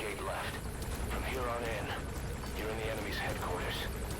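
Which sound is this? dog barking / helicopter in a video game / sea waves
helicopter in a video game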